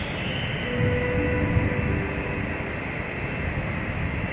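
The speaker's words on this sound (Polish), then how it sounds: "A tu niespodziewanie Baltic Express z Pragi zaparkował." The Baltic Express passenger train from Prague standing at Wrocław Główny station gives a steady, loud, broadband rumble and hiss of locomotive machinery. It holds close and continuous throughout, with no talking.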